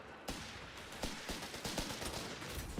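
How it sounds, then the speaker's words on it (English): Strafing-run gunfire from an aircraft in Company of Heroes 3, a long dense burst of rapid machine-gun fire with sharp repeated impacts, loud and continuous throughout. "Oh, nice strafing run called in from Alexim. That does a ton of damage and pins those squads."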